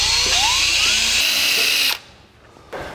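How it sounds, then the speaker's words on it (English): A power drill with a 1/8 inch bit whines loudly and steadily, its pitch shifting as it bites into a spot weld on a 1949 Chevrolet frame, then cuts off abruptly before a brief restart. "the first step is to drill out the center with an 1/8 inch drill"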